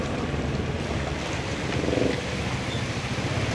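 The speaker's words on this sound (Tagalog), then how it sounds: "Malakas po yung ulan dito." Heavy rain pours down on a flooded street at the start of the rainy season, a steady, dense roar of broadband hiss that holds evenly throughout with a slight swell near the middle.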